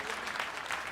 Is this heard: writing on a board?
no